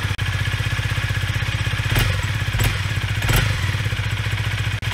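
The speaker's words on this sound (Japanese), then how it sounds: "チリチリ音は、パワーボックス特有の音らしいです。" A Honda CRF250L (MD47) idles loudly and steadily up close, its SP Tadao Power Box exhaust putting out a rapid, rattling, tinkling chatter, with a few sharp clicks along the way.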